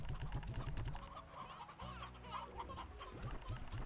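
Chickens in the video game Slime Rancher, quick bursts of clucking over a busy layer of game music and effects, with rapid repeated clucks at the start and again near the end.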